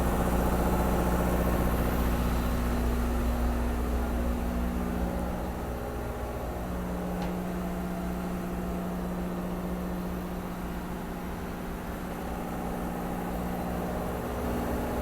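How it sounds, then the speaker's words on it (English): Two marine generators run steadily in a yacht engine room aboard a 138-foot Richmond tri-deck superyacht, a loud, continuous low hum and drone with no speech. "Here are those two generators I was talking about."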